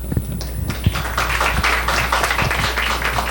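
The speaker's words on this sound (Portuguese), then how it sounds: "Palmas." An audience at a medical academy induction ceremony applauds, a sustained wash of many overlapping hand claps echoing in a large hall, with a few sharp, distinct claps standing out near the microphone.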